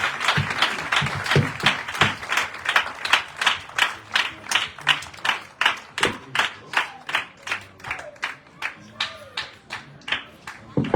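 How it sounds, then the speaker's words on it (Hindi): A Pentecostal church congregation at a wedding blessing ceremony claps in steady unison, a loud, even beat of about two claps per second that runs throughout with no talking. "सभी लोग तालियों को बजाकर परमेश्वर का धन्यवाद दें।"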